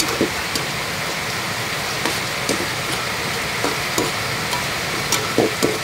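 Steady sizzling of food frying in oil, with scattered pops and light clinks over a constant hiss.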